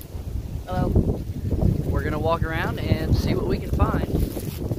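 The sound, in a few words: wind blowing on microphone outdoors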